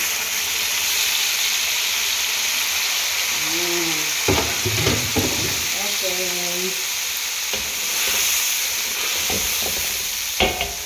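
Spice paste blended from fresh ingredients, with torn kaffir lime leaves, sizzles steadily in hot oil for chicken masak merah, a continuous close hiss with occasional stirring clatter and a few brief spoken words.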